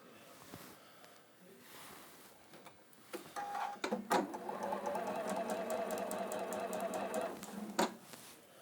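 A sewing machine stitches quilt fabric pieces together, starting with a few clicks and then running as a steady, rapid mechanical whir for several seconds before stopping with a final clunk.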